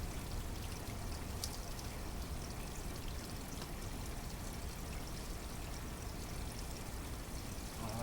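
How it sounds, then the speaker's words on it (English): Water pouring steadily as an aquaponics bell siphon drains down, a constant close rushing trickle with no breaks, fairly faint and alone. "it takes it a lot longer to go ahead and drain down and for the siphons to break"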